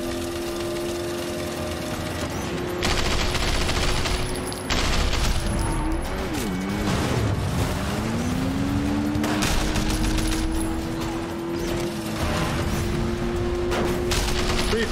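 Sustained automatic gunfire in a Sleeping Dogs shootout, loud rapid bursts running nearly continuously over a droning engine-like hum, with brief pauses between volleys.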